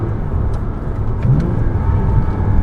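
A 2006 Porsche Cayman S engine blipped for a rev-matched downshift, a loud close-up rumble inside the car that swells briefly as the revs climb, with no talking.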